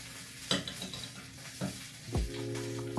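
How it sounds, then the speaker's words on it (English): Butter whisked into a pot brought to a boil on the stove, giving a few scraping stir strokes followed by a steady sizzling hiss, close and moderately loud with no talking. "Whisk it in."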